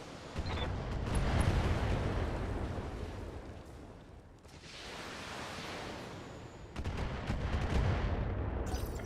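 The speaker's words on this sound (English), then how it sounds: "Firing on multiple enemies." Sustained gunfire and heavy battlefield blasts from a video game as units fire on multiple enemies, a dense rumbling barrage that dips briefly midway and then surges back loud.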